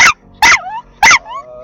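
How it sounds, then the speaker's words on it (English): A dog gives three sharp, loud barks close by, each snapping off into a short whining tail, spaced about half a second apart. "that wasn't whining, that was actual barking"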